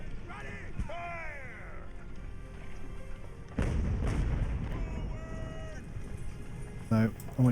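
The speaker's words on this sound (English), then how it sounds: "Let's keep that cannon fire going in." Mortar and cannon artillery fire in the naval game Ultimate Admiral Age of Sail: heavy booms, one strong blast midway and more near the end, with whistling shells and battle noise throughout.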